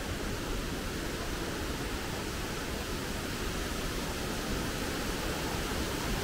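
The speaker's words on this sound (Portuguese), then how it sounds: "Olha só, uma cachoeirinha, dá para tomar um banho." A small waterfall on a river beside a bridge pours steadily, a broad even rush of water with no breaks, moderately loud and alone without voices.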